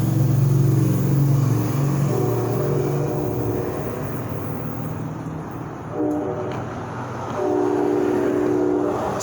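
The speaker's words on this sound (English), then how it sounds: "I live next to a train." A train passes close by outdoors, giving a loud continuous rumble with sustained horn tones that fade out near the middle and return stronger toward the end, with no talking over it.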